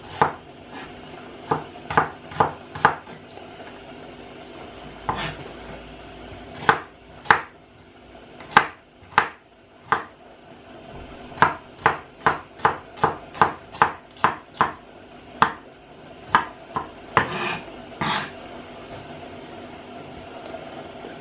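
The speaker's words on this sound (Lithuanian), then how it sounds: "Dabar susipjaustam svogūną. Pjaustau smulkiau, kaip visada." A knife chops onion finely on a board for meatless stuffed cabbage rolls: sharp, close cuts come in quick bursts and irregular runs, some strokes louder than others, with no talking.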